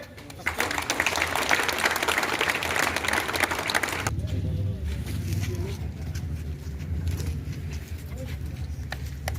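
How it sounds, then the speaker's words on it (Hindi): An audience at a college Republic Day event applauding loudly, a dense burst of clapping for about four seconds that cuts off abruptly. Murmuring crowd noise and some low talk follow. "ताली बजाइए।"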